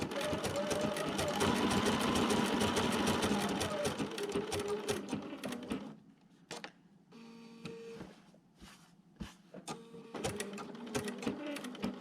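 A sewing machine stitches a Dresden blade quilt block, running in a steady rapid whir, then slowing into shorter start-stop bursts, loud and close with no speech.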